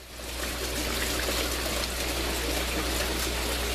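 Water from an aquaponics delivery system trickles and splashes steadily onto the tops of grow tower tubes, with one unplugged end. The rush is constant and close, under a low pump-like hum.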